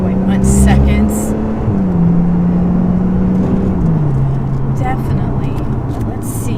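A 2014 Lotus Evora S sports car cruises along with a steady, loud engine drone whose pitch drops in steps through gear changes, heard from inside the cabin.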